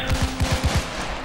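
Rapid burst of gunfire at a police officer in PayDay 2, about six punchy low shots in quick succession over a steady hum, loud and close, no talking.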